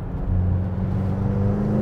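McLaren GT road car thrown into a corner and accelerating out, a steady low engine hum and rumble with tyre and road roar, close and continuous.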